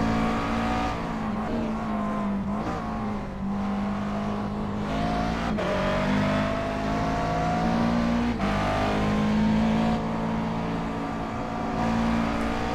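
Race car in iRacing at Road Atlanta, driven hard in a Grand Am practice session: a loud, continuous engine note that climbs and drops through the gears, with brief dips at shifts and steady high revving throughout.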